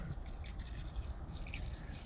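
Tepid water that has stood about a month in a container, dripping and trickling softly at close range in a quiet, continuous patter.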